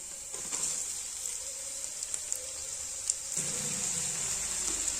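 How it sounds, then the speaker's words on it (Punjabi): Onions fry with ginger and garlic in a pan for palak paneer, giving a steady, soft hiss of sizzling oil with faint stirring touches and no talking. "ਪਿਆਜ਼ ਨੂੰ ਅਸੀਂ ਵਿੱਚ ਵਿੱਚ ਚਲਾਉਂਦੇ ਰਹਿਣਾ ਤਾਂ ਜੋ ਨੀਚੇ ਨਾ ਲੱਗ ਜਾਵੇ"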